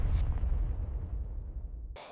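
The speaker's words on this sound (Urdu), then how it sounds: "اچانک ایک زوردار دھماکہ ہوا۔" A loud explosion erupts as a machine is ripped apart and fire flares up, a heavy deep boom that rolls on and slowly decays into a rumbling tail before cutting off abruptly.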